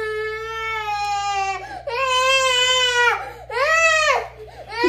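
A young child cries in three long wailing bursts, loud and close, with short breaks between them and no talk over the crying.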